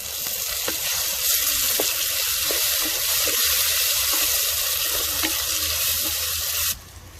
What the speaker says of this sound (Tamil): வெங்காயம் பாருங்க நல்லா பொன்னிறமா வதங்கிட்டு அதுக்கப்புறம் நம்ம தக்காளி சேர்த்துக்கலாம்.